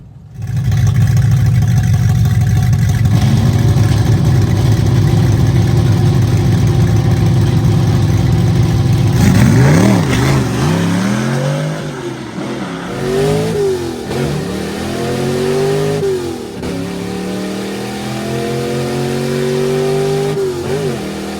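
A drag race car with a 347 stroker short-deck Windsor engine at Drag Week holds a loud, steady roar, then revs in repeated sharp rising and falling bursts, close and with no talk.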